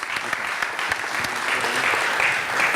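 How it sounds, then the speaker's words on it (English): An audience claps for the organizers at a hackathon awards ceremony during a tech conference, a continuous, fairly loud wash of applause that swells slightly toward the end. "a big applause for the hackathon organizers."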